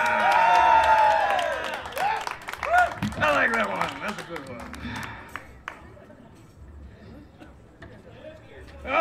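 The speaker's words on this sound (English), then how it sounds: "applause is great, it's beautiful, we love it" A bar audience at a live Renaissance folk group gig claps and cheers after a song, with loud mixed clapping and whoops that fade into scattered claps and chatter as voices talk over the tail.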